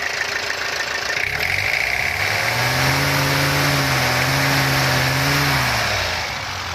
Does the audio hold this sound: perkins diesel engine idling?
yes